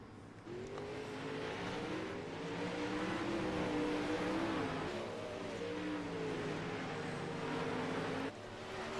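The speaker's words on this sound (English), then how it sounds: "So 3 more cars on the racetrack." 360 sprint cars race around a dirt oval, their engines roaring loudly and steadily with rising and falling revs as several cars pass close by together.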